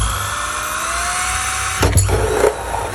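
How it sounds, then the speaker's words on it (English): A power drill whines steadily, then bites with a couple of louder grinding bursts near the end, drilling a 2 3/8 inch hole in a rain barrel. "We're going to drill a 2 3/8 inch hole."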